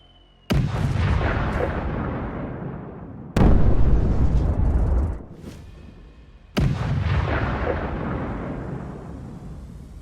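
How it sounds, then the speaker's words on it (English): Three heavy explosions from F-16 precision bombs striking Russian fortifications, each a sudden loud blast followed by a long rumbling decay, spaced a few seconds apart with no voices. "Ukrainian F-16 use high-precision bombs to take out Russian fortifications."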